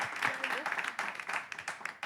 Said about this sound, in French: Oh là là, applaudissez.